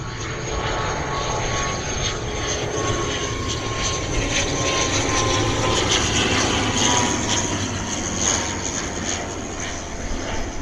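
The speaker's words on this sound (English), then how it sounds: "Aer Lingus ATR 72 coming in from Dublin to Bristol" Aer Lingus ATR 72 turboprop arriving at Bristol Airport on approach from Dublin, a loud continuous propeller drone with a steady engine hum, close and sustained throughout.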